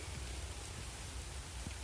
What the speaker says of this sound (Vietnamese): Đang nướng mà gặp trời mưa luôn.